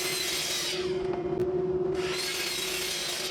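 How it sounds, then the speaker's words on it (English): Miter saw cross-cutting wood strips at 12 inches, a loud steady motor whine with the blade biting through the board in the middle, close by. "over to our miter saw to make our cross cuts at 12 inches"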